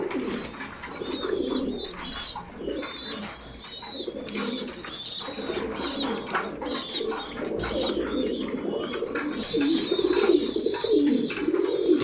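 Pigeons cooing in a loft during moulting season, soft repeated coos over a steady bed of birdsong and chirps, fairly close and continuous throughout.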